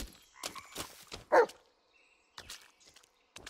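A dog in the Blair Witch video game gives a single short bark amid scattered footsteps and rustling in a quiet forest, the bark sharp and fairly close against near-silent background.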